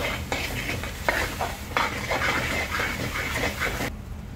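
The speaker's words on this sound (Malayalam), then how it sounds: "എന്നിട്ട് നന്നായിട്ട് ഇതുപോലെ ഇളക്കി കൊടുക്കുക, നന്നായിട്ട് ഇളക്കണം." Ground coconut stirred into a sizzling green chilli egg masala in the pan gives a loud, continuous frying hiss broken by scraping strokes of the spoon, ending abruptly.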